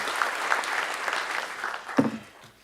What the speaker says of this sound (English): Please give them an applause of welcome to Netnod.